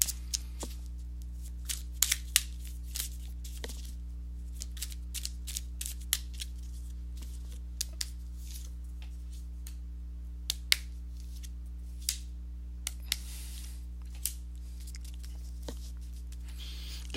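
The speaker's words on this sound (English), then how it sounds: "let me go ahead and shuffle these cards" Tarot cards are shuffled over and over in quick, crisp flicks and snaps, close up, over a steady low hum.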